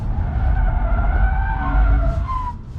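A 2022 Nissan Leaf corners hard, its tires squealing loudly in sustained wavering tones over steady road rumble, the screech rising and falling for nearly three seconds before easing off.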